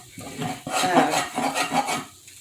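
A spoon stirring thick sausage gravy in a pan, producing close, repeated scraping and clinking strokes of metal against the pan in an uneven rhythm, with no talking.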